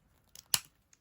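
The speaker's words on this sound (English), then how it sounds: "I'll just snip a bit of that" One quick, crisp snip of scissors cutting through a length of ribbon during papercraft card making, close and clean, preceded by a faint click of the blades in a quiet room.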